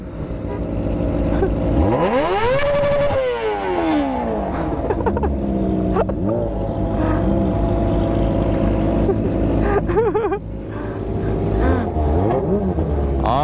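A Kawasaki ZX25R motorcycle fitted with a loud Toce exhaust revs hard near the limit, close and loud, with a rising scream, drops and repeated blips of the throttle.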